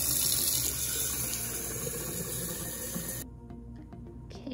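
Tap water runs steadily and loudly into a jar of sprouting seeds, a continuous close splashing rush that cuts off abruptly near the end, leaving a few faint drips and clinks.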